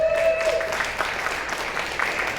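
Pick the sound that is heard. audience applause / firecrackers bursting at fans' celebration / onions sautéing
audience applause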